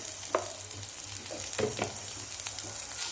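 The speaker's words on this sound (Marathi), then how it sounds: "मिरच्या अर्धवट भाजलेल्या आहेत आता लसूण पाकळ्या टाकूया एक अर्धा चमचा जिरं टाकूया" Green chillies, garlic cloves and cumin roasting in a pan, a faint steady sizzle with a few brief scraping stirs, close and quiet with no talking.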